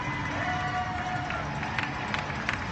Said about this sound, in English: Guess you can hear the crowd.